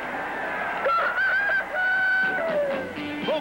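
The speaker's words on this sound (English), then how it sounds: "Brewster, the Gobble Rooster" A cartoon rooster mascot crows in a 1950s television beer commercial, a drawn-out, wavering call with rising and falling pitch, heard alone and fairly loud over about three seconds.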